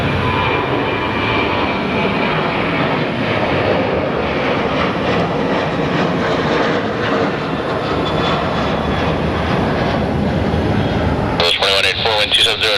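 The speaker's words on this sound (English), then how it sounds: "So we have a Southwest 737 headed off to Vegas" A Southwest Boeing 737 jet takes off, a steady broad roar of engine noise that holds throughout under an ongoing voice, with a brief sharper burst near the end.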